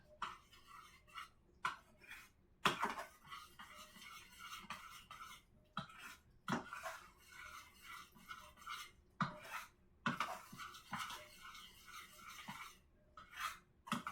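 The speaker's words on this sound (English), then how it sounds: "I think I have stirred this up enough and it's chilled a little bit, so I think this batter is just about ready." A spoon stirs cake batter in a bowl, close and fairly quiet, scraping and clinking against the sides in irregular strokes with short pauses and no talk.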